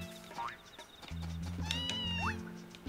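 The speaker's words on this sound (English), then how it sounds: "Kitties are crying." Cats meow in Harvest Moon: A Wonderful Life, with a few short game-animal cries close up and clear over a soft, steady bed of background music, no voices.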